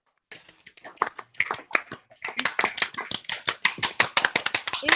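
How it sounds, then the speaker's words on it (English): Scattered applause from a small online audience at an author's reading and Q&A, a few claps and taps building into a denser, uneven patter with some voices mixed in. "how about another, like a real round of applause?"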